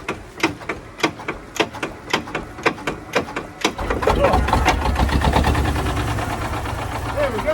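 A Thwaites 2-ton dumper's diesel engine cranks in the cold with slow, evenly spaced chugs, then catches and settles into a loud, steady, rough-running idle close by.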